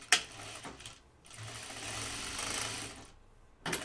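A sewing machine top stitching a French seam whirs in two bursts, a short run and then a longer steady run, close and fairly quiet, with brief pauses between.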